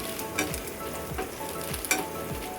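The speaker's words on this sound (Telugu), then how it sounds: "ఆనియన్స్, చిల్లీ అయితే యాడ్ చేసి బాగా ఫ్రై చేయాలండి" Onions and green chillies fry in a pan, giving a soft, continuous sizzle with a few faint clinks from stirring.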